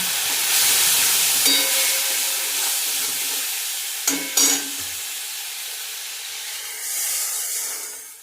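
Nigella seeds sputter in hot oil with turmeric and salt, a loud steady sizzle that crackles and spits when water hits the pan, then gradually settles to a quieter hiss.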